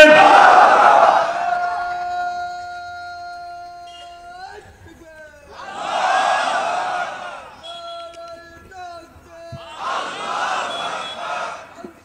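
A large crowd responds to a call by chanting the takbir in unison, three long roaring shouts of many voices, each answering a single man's call, with a sustained tone heard between the chants.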